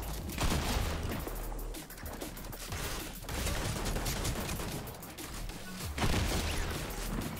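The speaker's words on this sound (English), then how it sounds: "That sounds like dynamite." Dynamite goes off in Fortnite as a string of sharp, booming blasts and crackling bursts, several in quick succession with brief dips between them, against busy game noise and no talk.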